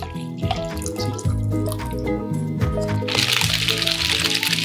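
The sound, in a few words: ice water poured into palm fruit paste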